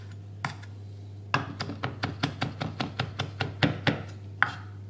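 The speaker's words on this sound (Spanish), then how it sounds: "Ahora solo falta cortar el perejil." A knife finely chopping parsley on a cutting board makes a steady run of about a dozen crisp, close taps after a couple of isolated knocks, alone with a low hum behind it.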